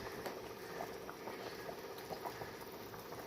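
Fish curry bubbles steadily in a pot, a continuous close simmering patter with small pops throughout and no voices.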